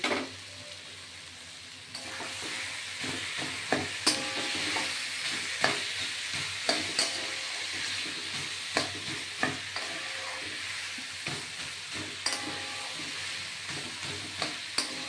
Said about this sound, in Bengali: একটু মাঝে মাঝে খুন্তি দিয়ে কিন্তু নেড়ে দিতে হবে।